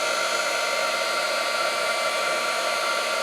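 A heat gun blows hot air onto Grafix shrink film, a constant loud rushing hiss that holds steady with no pauses or talk.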